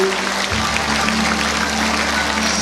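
Church congregation clapping together after a prayer blessing, a dense steady wash of applause filling the room with no clear pauses over its short span.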